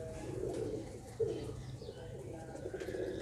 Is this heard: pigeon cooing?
yes